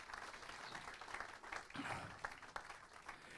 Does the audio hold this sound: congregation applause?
yes